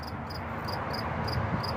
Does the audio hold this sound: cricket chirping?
yes